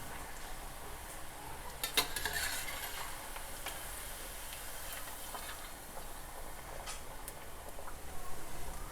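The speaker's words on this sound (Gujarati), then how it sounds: "લો ફ્લેમ પર મુઠિયાને આ રીતે તળી લઈશું।" Muthiya fry in hot oil on a low gas flame, giving a steady, gentle sizzle and bubbling. Occasional louder crackles and clinks break through as the pieces are turned.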